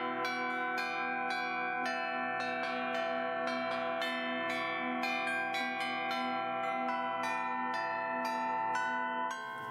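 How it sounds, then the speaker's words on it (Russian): Church bells at Zhirovichi monastery in Belarus ring continuously, with many bells struck in overlapping irregular strokes, full and resonant, alone with no voices. "звон колоколов – это божественно"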